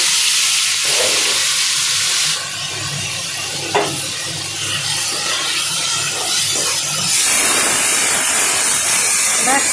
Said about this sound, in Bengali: এইখানে আমি কড়াইতে তেল দিয়ে দিয়েছি, দিয়ে এবার এই উচ্ছেটাকে ভাজতে বসাচ্ছি।